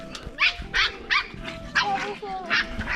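Puppies bark in quick, repeated yaps, fairly close, while people talk over them.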